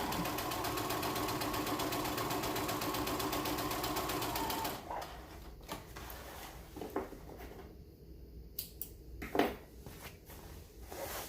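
A sewing machine stitches fabric in a fast, even rattle for several seconds, then stops for pivoting, followed by scattered soft clicks, taps and fabric handling noises.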